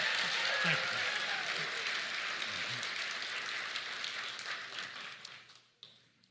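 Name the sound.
audience applause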